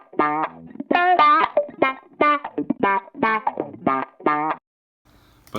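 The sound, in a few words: funky guitar lead sample from Splice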